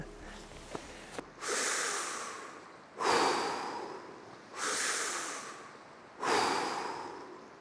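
Slow, deep breaths outdoors on a windswept Nordic island, four long airy inhale-exhale cycles close to the microphone, each rising and fading, with no talking in between.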